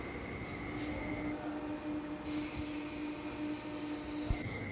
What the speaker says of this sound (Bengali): এই দেখুন এখানে লোকাল ট্রেনগুলো।